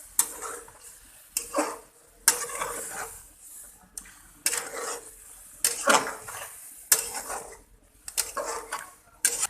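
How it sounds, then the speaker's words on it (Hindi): Chicken charsi karahi stirred vigorously in a pan over high flame, loud bursts of spatula scraping and clattering against metal in an irregular rhythm, with a faint sizzle between strokes and no talking. "अब हाई फ्लेम के ऊपर आपने इसको इसके साथ मिक्सिंग करनी है अच्छी तरह से।"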